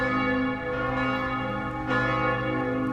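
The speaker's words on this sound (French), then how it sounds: "les cloches qui sonnent à toute volée répondent à celles des villages voisins" Church bells in Chaux peal loudly and continuously at full swing, their rich overlapping tones ringing out with a steady, full sound throughout.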